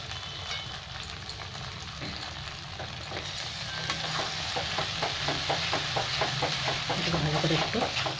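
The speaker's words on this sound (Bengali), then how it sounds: "এটাকে ভালো করে একটু তেল ছাড়া পর্যন্ত আমি ভেজে নেবো মশলাটা" Ground chilli, cumin and ginger paste with grated tomato fries for a fish curry, making a constant close sizzle that grows louder toward the end, with light stirring scrapes underneath.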